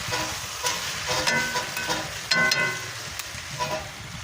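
Rib eye steaks sear in a hot pan greased with rendered fat, giving a steady, close sizzle and hiss with scattered crackles and pops across several seconds, no talking.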